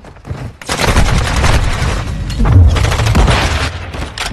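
Rapid bursts of video game gunfire crackle and pop continuously through a multiplayer match, dense and loud with overlapping shots and booms.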